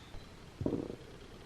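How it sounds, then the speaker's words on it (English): A dog lets out a single short, low, gurgling burp, close and brief amid quiet surroundings. "did you really burp again?"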